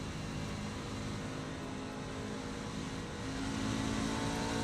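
A race truck engine heard from onboard the cockpit in the iRacing simulator at Rockingham makes a steady, fairly quiet drone with a slight rise in the final second, and no talking.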